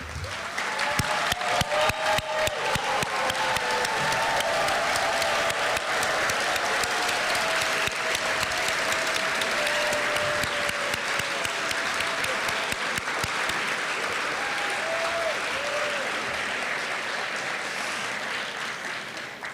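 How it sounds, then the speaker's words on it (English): Sustained, dense applause fills a hooding ceremony hall as the audience claps for parents and families. It stays steady for the whole stretch and fades slightly at the end. "rise if able so we could applaud you for the role you've played in getting these students here today."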